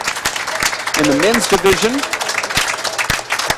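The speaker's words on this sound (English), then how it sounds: "Getting a round of applause from the crowd here at the Tucson Racket Club" Crowd applause after the men's final of a four-wall handball championship at a racket club in Tucson, a steady patter of clapping running under a commentator's voice throughout.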